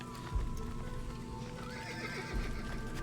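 Horse hooves clip-clop in a video game while a horse whinnies, steady and fairly close, with thuds at intervals over a busy game background and no talk.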